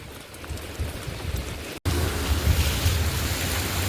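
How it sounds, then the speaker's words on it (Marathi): Heavy monsoon rain pours in a steady, dense roar close by, with a momentary cut near the middle before the downpour resumes even louder. "पाऊस जास्त आहे"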